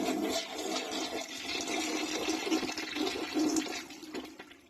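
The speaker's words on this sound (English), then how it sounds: "It's my toilet flushing" A household toilet flushes close up, a steady rushing gush of water that holds for several seconds and begins to fade at the end, with no voices.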